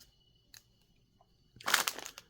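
A silver foil biscuit bag of chocolate Collon is opened with a short burst of crinkling and crackling, close and fairly quiet, preceded by a couple of faint rustles.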